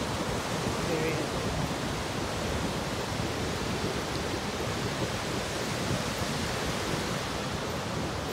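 Ocean waves at Pismo Beach, California: a steady, broad wash of surf and wind rushing continuously without clear breaks, loud and enveloping, with no speech.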